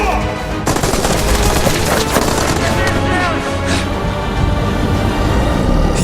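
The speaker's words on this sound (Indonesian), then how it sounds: "menghindari tembakan para penjaga" Rapid bursts of gunfire from guards crackle and pop continuously over a dense, loud film soundtrack, with booming low rumble underneath.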